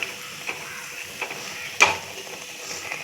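Sweet potato adhirasam sizzles softly in hot oil, a quiet steady frying hiss broken by a few soft clinks and one sharper scrape as the pieces are turned.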